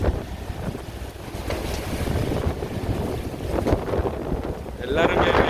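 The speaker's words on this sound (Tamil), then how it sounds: "காற்று மழை" Wind and heavy rain pour down outdoors on a road in Dubai, a steady loud wash of gusts and falling water with a brief brighter burst near the end and a voice speaking underneath.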